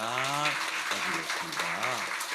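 Church congregation applause during a Korean Sunday worship service, a steady wash of clapping with a voice speaking or calling out loudly over it.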